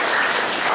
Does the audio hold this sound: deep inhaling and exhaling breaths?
no